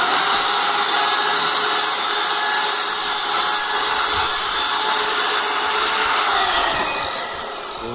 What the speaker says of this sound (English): So we put it on the miter saw, and I will not cut too much.